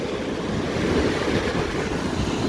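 Ocean surf surging on California's Lost Coast, a continuous loud roar of churning water with some wind buffeting the microphone and no voices.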